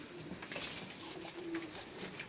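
Pigeons cooing in a loft, soft low murmuring coos repeating under faint background rustle and patter, close and quiet with no speech.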